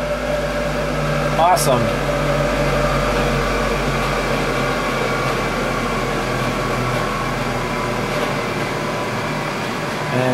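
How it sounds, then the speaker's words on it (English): A Siemens electric motor in a converted BMW 320i spins up with a quick rising whine, then settles into a steady hum. A person speaks briefly over it. "Siemens motor spinning right up."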